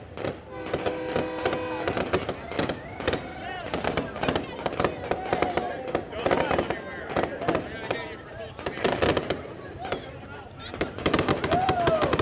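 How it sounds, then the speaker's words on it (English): Fireworks going off at Elko Speedway: dense volleys of sharp cracks and pops, rapid and irregular, rolling on continuously with crowd noise and voices mixed in. "As the fireworks go off."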